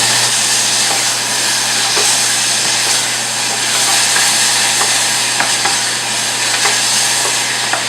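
Pears stirred and caramelizing in a hot pan, a steady sizzle and hiss with scraping stirs throughout, close and even, no talking.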